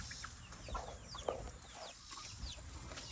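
Chickens cluck softly in a farmyard ahead of a thunderstorm, a few short, scattered calls rising over a quiet outdoor background.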